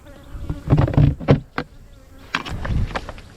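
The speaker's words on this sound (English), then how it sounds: "Good set of yellow bees coming now." Yellow honey bees buzzing at a hive during nuc re-queening, with close dense buzzing broken by bumps and knocks from hive handling.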